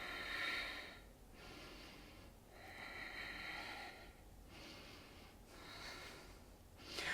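Slow, deep breaths during a yoga pose, long airy inhales and exhales close to the mic, rising and falling in a calm, regular rhythm of about four cycles.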